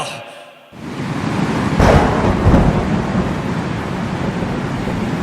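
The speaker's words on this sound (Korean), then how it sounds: "포세이돈이 일으킨 폭풍으로 인해 괴물 같은 파도가 솟구쳤고" A thunderstorm effect in a staged reading of the Odyssey at a library book concert: a sudden crash of thunder breaks into steady roaring rain and rumble that continues loudly to the end.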